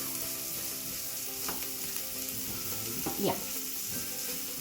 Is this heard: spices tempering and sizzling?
yes